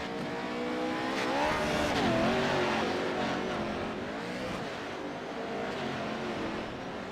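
Off-road pro race trucks tear around a dirt track in a competitive race, engines roaring and revving continuously as they slide and climb a hill, loud and sustained with no speech.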